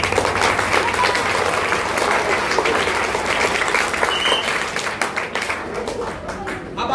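School audience at a magic show applauding continuously, a dense, fairly close wash of many hands clapping that fades slightly toward the end.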